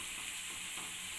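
Vermicelli is mixed in a frying pan for shavige uppittu, a brief close sizzle with light scraping, ending in a single sharp clink of the utensil against the pan.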